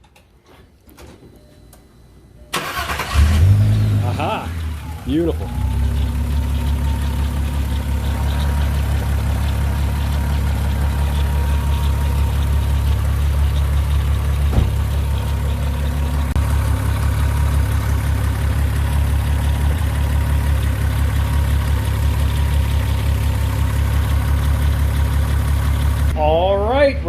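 A 2002 Volkswagen Golf VR6 with the 2.8L engine cranks briefly, catches, and settles into a steady, even idle close by for over twenty seconds. Someone speaks briefly near the start.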